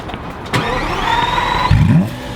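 A Subaru BRZ drift car's engine cranks and catches, then settles into a steady idle with a whine in its quiet exhaust mode with valves closed, followed by a brief rev near the end.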